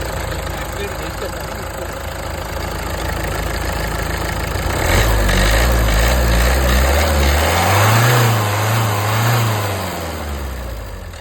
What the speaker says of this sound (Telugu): ఇంజన్ అయితే పర్ఫెక్ట్ కండిషన్లో ఉంది, వెరీ గుడ్ కండిషన్.